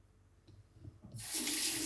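A tap turns on and water gushes loudly into a sink while a Leaf Twig razor blade is rinsed, after a second of quiet handling noises, then cuts off abruptly.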